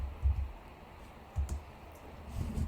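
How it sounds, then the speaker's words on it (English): A few soft, muffled clicks from a computer keyboard as a terminal command is typed in Visual Studio Code, sparse and quiet with gaps between taps, no talking. "Now on the terminal window, let us type now"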